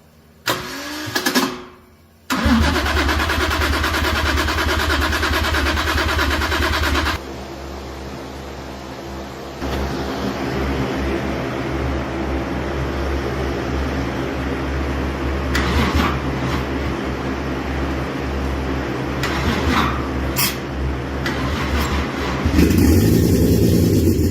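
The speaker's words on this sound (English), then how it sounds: "So this should start because we've got fuel, we've got spark." Toyota 1JZ-GTE engine cranks briefly, catches and settles into a steady, loud idle that runs on for over twenty seconds, with a slight rise in revs near the end.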